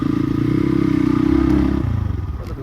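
A motorcycle chugs along a dusty trekking route in Manang, its loud, pulsing engine close and steady before the note drops and rattles on rough ground.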